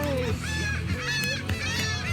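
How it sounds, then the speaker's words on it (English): Goose-like birds at the Kemah Boardwalk honk loudly and repeatedly at close range, their harsh calls overlapping in a dense, raucous chorus with a few voices faintly underneath. "Look at these birds."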